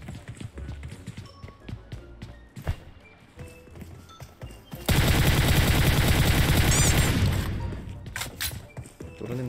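Rapid gunfire erupts in the battle-royale mobile game PUBG Mobile, a dense loud volley lasting several seconds amid scattered footsteps and game sounds, with someone talking before it.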